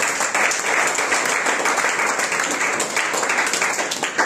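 A large church congregation at a prayer service applauds steadily, a dense, sustained wash of clapping that stays loud and even throughout, with no talking over it.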